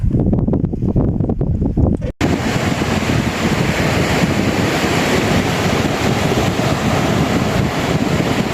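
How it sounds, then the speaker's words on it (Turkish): Steady roar of surf washing in close by on a fine sandy beach at Incekum, Aydıncık, Mersin, with wind buffeting the microphone; a brief burst of other noise comes before it. "Denizin içi sırf kum ince kum, harika bir deniz."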